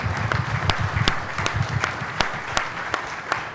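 An audience at a community gathering gives a round of applause: a few distinct, evenly spaced claps ring out over a low murmur of background noise, fairly close.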